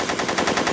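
A short, loud burst of rapid machine-gun fire in a film scene, with evenly spaced rattling shots packed into under a second.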